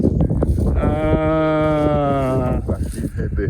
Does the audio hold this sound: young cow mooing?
yes